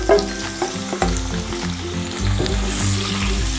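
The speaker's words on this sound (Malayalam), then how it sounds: "ഇനി നമുക്ക് അതിനകത്തിട്ട് സവാള ഇടാം കേട്ടോ" Sliced onions fry in hot oil for a Kerala-style duck roast: a loud, close, continuous sizzle with low rhythmic thuds and scrapes of stirring.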